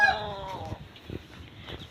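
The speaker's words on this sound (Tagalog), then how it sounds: "Ayan po, dami manok." Chickens cluck close by at a Filipino village home around lunchtime, a burst of short clucks and a trailing squawk against a quiet outdoor backdrop.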